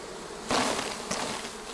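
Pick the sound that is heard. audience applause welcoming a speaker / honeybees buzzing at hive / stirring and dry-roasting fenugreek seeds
honeybees buzzing at hive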